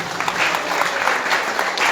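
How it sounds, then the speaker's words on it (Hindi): An audience at a religious gathering gives the organisers a burst of loud, continuous applause, with dense clapping filling the hall with no pause. "तो इन प्रभु लोगों के लिए आप लोग जोरदार एक बार ताली बजाइए"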